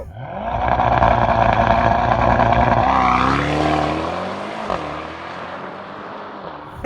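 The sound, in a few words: Mercedes-AMG S63 accelerating with launch control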